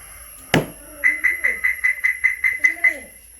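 A sharp knock on a Toyota or Maruti Suzuki car sets off a second shock-sensor alarm tone: about ten short, evenly spaced electronic beeps, close and clear, with a voice faintly underneath.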